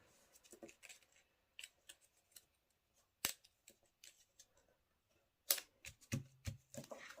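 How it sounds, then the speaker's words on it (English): Paper snips trimming cardstock along the edge of a handmade card, heard as scattered short crisp cuts in irregular bursts, close and fairly quiet, with no talking. "Then you'll take a pair of paper snips and you can just trim it right along the edge of your card."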